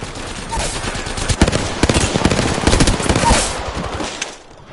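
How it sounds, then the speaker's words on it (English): Bursts of video game gunfire crack out in rapid automatic volleys, loud and close, with rattling shots clustered through the middle before tapering off near the end. "Listen up, I'm getting shot at."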